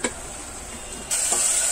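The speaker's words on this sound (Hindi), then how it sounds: "इसे थोड़ी देर के लिए भून लेंगे" Ginger garlic paste and green chilli paste sizzle as they fry in a pan for pav bhaji. A steady hiss runs throughout and turns brighter and louder partway through, with no talking.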